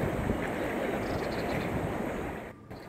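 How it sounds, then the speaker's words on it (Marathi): Floodwater of the Kaal river in Raigad after heavy rain, a steady dense roar of rushing water mixed with wind buffeting the microphone, loud and continuous before dipping briefly near the end. "रायगडमध्ये काळा नदीला पूर आल्यानंतर संपूर्ण परिसरात पाणीच पाणी झालेलं आहे."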